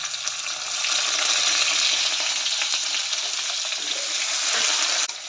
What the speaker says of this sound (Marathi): सर्व कांदा, टोमॅटो, भेंडी चांगलं परतून घेऊया